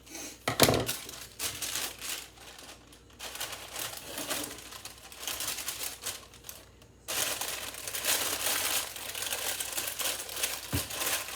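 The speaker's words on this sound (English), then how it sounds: "Crumple it up. That's an easier way to get it to cooperate." Baking paper is crumpled by hand in a home kitchen for banana bread, making bursts of crinkling and rustling, close and fairly loud, with brief pauses between handfuls and no talking.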